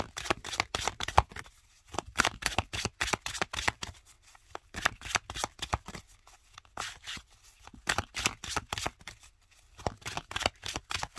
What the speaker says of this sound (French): on va mélanger les cartes et puis vous allez pouvoir choisir une carte